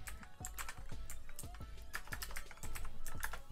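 Rapid typing on a computer keyboard, close and crisp, with a quick irregular run of key clicks and a few heavier strokes spread through the clip.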